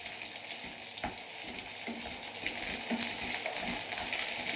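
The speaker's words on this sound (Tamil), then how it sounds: "அப்படியே வந்து ஹை ஃப்ளேம்லேயே வச்சு ஒரு 30 செகண்ட்ஸ் வந்து நல்லா கிண்டி விட்டுக்கோங்க" Vegetables fry on high flame for a quick stir-fry side dish, a continuous sizzle with several scraping stirs of the spatula, growing louder toward the end, no talk.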